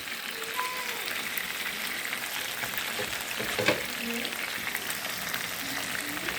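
Meat curry cooks in a pan at home with a constant close sizzle and bubbling hiss, steady throughout, with a few faint clinks and a brief louder clatter partway through.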